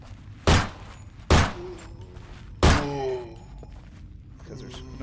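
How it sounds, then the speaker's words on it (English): Gunshots fired at a zombie in the horror video game Nightmare of Decay: three loud, punchy blasts spaced about a second apart, the last trailing into a ringing tone, with quieter game ambience around them. "And I'm gonna go ahead and shoot you."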